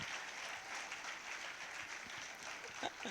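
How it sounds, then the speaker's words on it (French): Steady applause from an audience at a live event in Guadeloupe, a continuous wash of clapping at moderate distance with no distinct individual claps standing out. "levez-vous et applaudissez"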